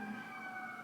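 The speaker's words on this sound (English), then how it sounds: "You guys hear the sirens?" A siren wails steadily in the distance, its sustained tones holding through the moment with faint low rumble beneath, no voices.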